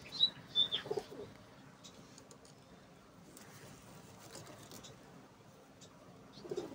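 A pigeon gives a few soft coos at the start and again at the end, faint and close, against a quiet background.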